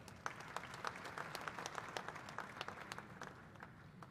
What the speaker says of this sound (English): Can all the youth in the room please clap your hands for the guest of honor?